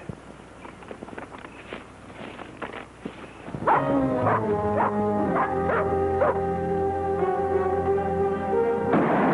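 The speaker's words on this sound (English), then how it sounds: "Hey, that's Bullet barking." A dog barks repeatedly in an even, steady rhythm, fairly loud and close, after a few seconds of quieter rustling and movement.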